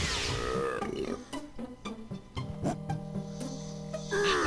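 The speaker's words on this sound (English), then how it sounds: "Burp out another shockwave." A Donkey Kong 64 character lets out a long, loud burping shockwave, a series of deep belching bursts and croaks lasting several seconds, with no talk over it.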